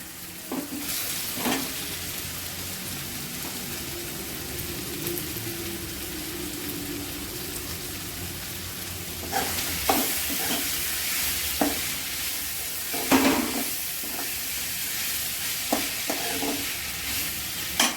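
Dried fish added to a pan of soft-cooked tomato masala for a Tamil-style egg and dried fish thokku, giving steady sizzling with stirring scrapes and a few sharper clatters, close and alone without talk.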